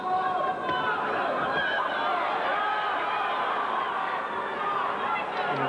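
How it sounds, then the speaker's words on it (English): A boxing crowd at a super featherweight title bout cheers and murmurs steadily for Reefer, a continuous distant roar of voices under a commentator's talk. "And the crowd doing the best to lift Reefer"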